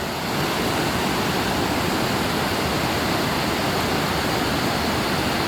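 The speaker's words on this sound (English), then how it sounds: "Waterfall." Roadside waterfall beside the Fv243 road in Norway, a loud, dense and unbroken roar of crashing water heard up close, steady throughout with no voices.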